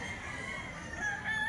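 Roosters crowing at a cockfighting grotto, a drawn-out crow rising over a noisy, crowded background, moderately distant.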